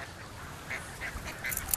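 A pair of ducks quacking in a rural market setting, a few short faint calls scattered over a soft background.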